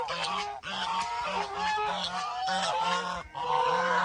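Geese honking loudly and repeatedly at close range, continuous overlapping calls with a steady rhythm of low harsh honks, heard alone among lychee trees.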